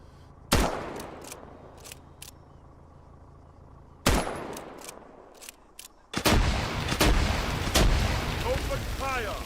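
Gunfire in the video game Antistasi, including a grenade launcher, with two heavy booming reports a few seconds apart and then a dense barrage of overlapping shots and blasts, loud and reverberant.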